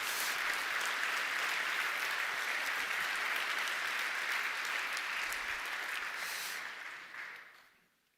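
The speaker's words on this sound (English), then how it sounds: "So a little applause for him." Sustained applause from a conference audience, steady and full for several seconds before thinning out and fading away near the end.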